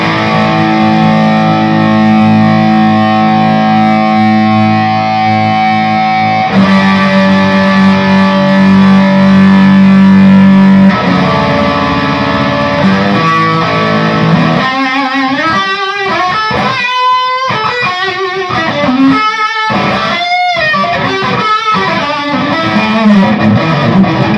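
A distorted electric guitar on a 2015 Knaggs Severn HSH Tier 2 through a tube amp, moving from sustained held chords into a choppy, rhythmic run of muted stabs and bursts, loud and steady with no talking.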